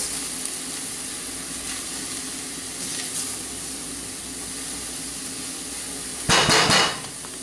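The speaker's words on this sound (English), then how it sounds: "Give it a nice stir." Onions sizzling in a pan for homemade Alsatian sauerkraut, a steady close hiss, with a short loud burst of stirring and spatula clatter near the end.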